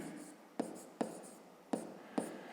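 A pen writes the number 54 during a fifth-grade math exercise, four sharp taps and strokes spaced about half a second apart, faint and close against a quiet room.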